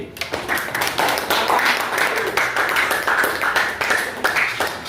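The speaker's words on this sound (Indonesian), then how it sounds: "Tepuk tangan untuk Anggi." A Grade VIII class applauds in a classroom, many hands clapping in a dense, continuous patter for several seconds at close range.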